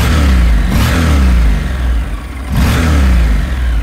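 The engine of a 2012 Honda NC 700X motorcycle revs up twice, loud and close, each rise in pitch followed by a drop back toward idle, with no talking.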